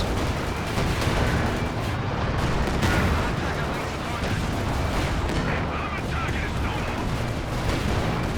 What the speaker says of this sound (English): We've got a bombing run coming in.